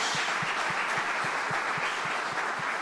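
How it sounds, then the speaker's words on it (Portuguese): A church congregation claps together in steady, even rhythm, a dense continuous applause heard at moderate distance with no talking over it. "você pode dar um aplauso bem forte ao Senhor?"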